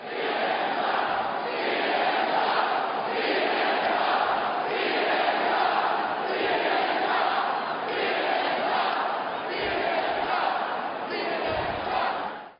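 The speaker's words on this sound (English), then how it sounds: "crowds at the Trump rally, like we saw last night, hey, Don, hey, Jeff Zucker, they were chanting at you." A large crowd at a Trump rally chants loudly and continuously in a rhythmic, roaring mass of voices that holds steady throughout.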